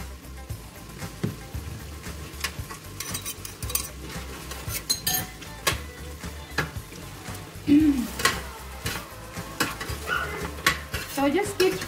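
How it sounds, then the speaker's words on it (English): Pork goulash ingredients, including mustard, being stirred in a pan with a utensil, giving continuous scraping and clinking of metal against cookware over a faint sizzle for the whole stretch, close and moderately loud. "So just keep mixing so if the ingredients will fully incorporate it."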